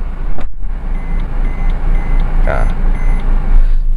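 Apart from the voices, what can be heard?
Suzuki Ertiga keyless alarm beeping with key outside cabin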